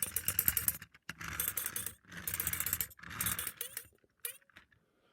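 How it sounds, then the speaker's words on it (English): A Plarail Theo toy train makes rapid, rattling clicking in three or four bursts about a second apart, close and fairly quiet, then trails off into a few faint clicks. "instead of ringing, he does a weird clicking sound"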